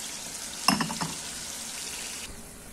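Hot water poured into a pan of frying ground pork, a sharp burst of sizzling and spattering that settles into a steady close hiss, with no talking.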